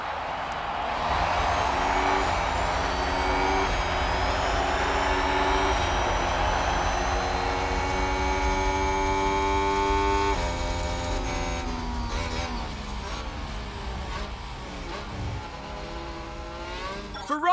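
F1 race cars launch from the start of the Mexican Grand Prix in the F1 Manager 22 video game, a dense roar of engines with rising whines that fades somewhat toward the end.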